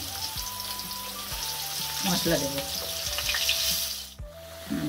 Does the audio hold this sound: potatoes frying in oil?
yes